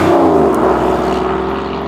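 A Porsche 911 GT3 Mezger engine produces a loud, steady drone with a deep, rich harmonic tone, running continuously close by without pause.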